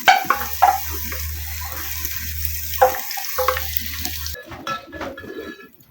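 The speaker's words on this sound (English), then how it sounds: "I'm going to add garlic." Garlic fries in a pan over low heat for beef pilau, a close crackling sizzle under a low steady hum, with a few clinks of utensils and a quieter, busier stretch of frying near the end.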